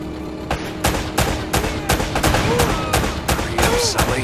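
Gunfire rings out in the Uncharted: Drake's Fortune video game, with a rapid series of loud, sharp shots fired in quick irregular bursts close by, along with bright metallic impacts and ricochets between them.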